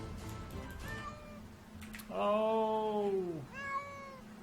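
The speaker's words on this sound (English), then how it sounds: "Baby kitten has become a cat." A cat in the video game Dwarf Fortress gives a drawn-out meow followed by a shorter second one, rising out of quiet background noise, with a brief spoken exclamation before it.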